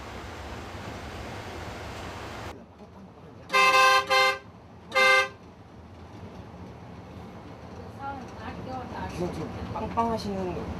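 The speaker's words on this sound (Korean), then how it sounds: "매일 같은 시간 울리는 버스의 경적 소리" A bus horn at a mountain-village bus terminal in Yeongyang gives three loud, blaring honks over steady engine rumble, followed by faint voices and background activity.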